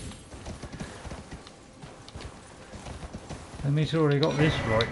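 Galloping horse hooves in Elden Ring beat a quick, steady clip-clop throughout, with someone speaking over the last part of the run.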